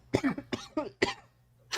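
A series of four or five short, harsh coughs close to the mic, clustered in quick bursts with brief pauses between them.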